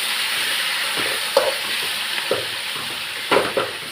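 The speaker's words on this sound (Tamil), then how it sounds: "அதையும் போட்டு நல்லா வதக்கிட்டு அந்த எண்ணெயிலேயே" Pulicha keerai (sorrel leaves) sauté in hot oil in a pan with a continuous bright sizzle. A few distinct scraping stirs punctuate the frying.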